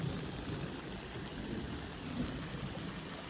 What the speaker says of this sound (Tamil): தண்ணி சும்மா எண்ணாம போகுது பாருங்க